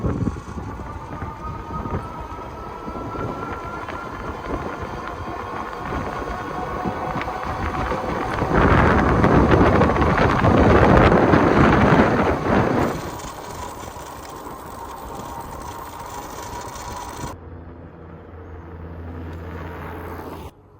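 A Himiway Cruiser electric fat bike being ridden at up to 22 mph, with steady rolling tire hum and whooshing wind buffeting the microphone, rising louder mid-ride before easing off, no voices.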